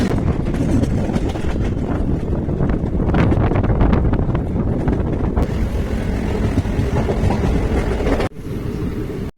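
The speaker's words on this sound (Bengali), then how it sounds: "ফাইনালি রেলে উঠছি" A train rumbles along steadily with clattering and wind roar, then the sound cuts sharply and drops to a quieter rumble near the end.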